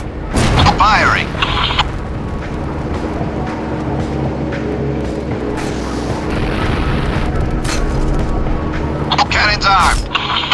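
A tank's main gun cannon booms in the Syphon Filter: Logan's Shadow video game, with sharp loud blasts near the start and end over a constant rumbling battle din and radio-style talk.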